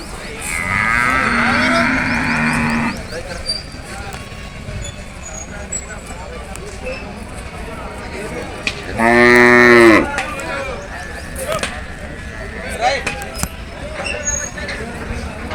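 Buffaloes lowing at a Sunday buffalo market in Erragadda, two long loud moos several seconds apart over crowd babble and distant traffic.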